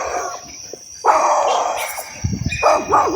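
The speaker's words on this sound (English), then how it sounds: "these dogs sound like they're not even in the fence" Dogs barking somewhere off to the side, a few short bursts scattered over insect and bird chatter outdoors, fairly distant and not very loud.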